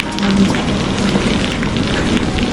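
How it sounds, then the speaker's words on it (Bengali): Heavy rain pours down steadily in a thickening storm, a loud dense hiss that fills the whole stretch without a break. "আরো জোরে, আরো ঘন ধারায় পড়ছে বৃষ্টি"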